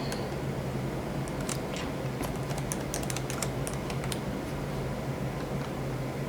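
Typing a password on a computer keyboard, a run of crisp, closely spaced key clicks in uneven bursts over a steady background hum, near and clear with no talk.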